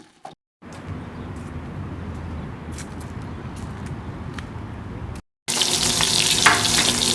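Fish frying in a non-stick pan: a steady, even sizzle that runs unbroken for several seconds between short silent gaps, ending in a louder, brighter burst of spattering hiss, with no voices.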